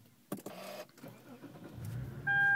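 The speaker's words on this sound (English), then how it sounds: "So now all we have to do is turn on the car" A Lexus IS-F engine starting: a sharp click and whir of the starter, a brief crank, then a low rumble settling in, with a steady electronic chime rising at the end.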